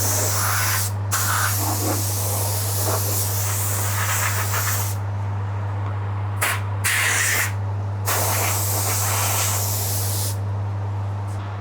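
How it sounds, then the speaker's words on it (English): Compressed air blasts dust off a guitar in a workshop, loud hissing bursts that start and stop several times over a steady low mains hum. "Going to blow the dust off the guitar as well with the compressor."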